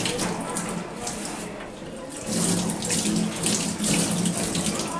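Water pours steadily from a pail for hand washing, splashing continuously with a brief lull, close by and fairly loud, and faint voices are audible in the background.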